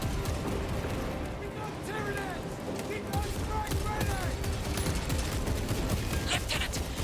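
Bursts of gunfire and battle clatter during a Space Marine 2 cutscene, continuous and loud through the whole stretch, with voices and chirping tonal effects mixed in.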